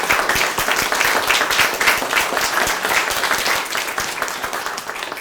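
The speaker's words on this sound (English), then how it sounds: "Can we just one more time give our panel a big round of applause?" A panel audience at the Lexington Lyceum event applauds, sustained dense clapping throughout, loud and steady with no talking over it.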